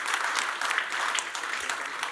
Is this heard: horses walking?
no